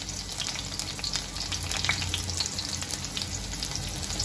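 Sliced onions fry in butter in a kadai with a steady, close sizzle and a few faint scraping touches, and nobody speaks over it.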